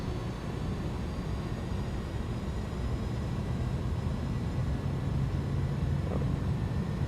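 Twin turbofan engines of an Airbus A310 in Microsoft Flight Simulator spool up at full takeoff throttle, a steady loud broadband roar with a low rumble holding constant throughout, no voices.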